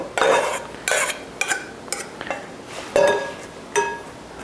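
A spoon stirs salted cooked rice from a rice cooker, breaking up clumps, with repeated scraping and clinking strokes against the pot at an irregular pace, close and clear with no voices.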